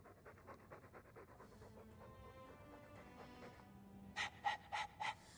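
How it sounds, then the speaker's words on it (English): A dog pants in quick, rhythmic breaths, quiet and close, during a Dragon Age II game session, with a few brighter chiming game sounds near the end. "pardon my dog for breathing"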